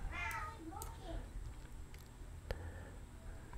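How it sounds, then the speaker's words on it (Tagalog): A domestic cat meows several times in quick succession near the start, fairly faint and close, then quieter indoor background follows with a few soft knocks. "Medyo nag-iingay yung pusa."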